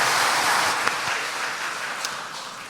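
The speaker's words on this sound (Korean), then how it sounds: "하나님께 박수 올려드리겠습니다." A church congregation at a Korean Sunday service claps together in a soft, steady wash of applause that fades slightly toward the end, with no talking.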